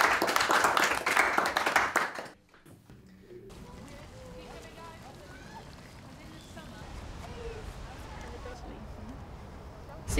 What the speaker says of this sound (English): Can we give a big round of applause to all of you?